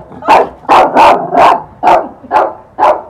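Dogs barking in a street setting in India, seven loud, close, evenly spaced barks in a steady rhythm with no talk over them.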